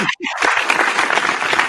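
Applause from a small studio group on a beer-tasting show, a short steady burst of clapping that starts after a brief gap and runs on, with talk mixed in over it.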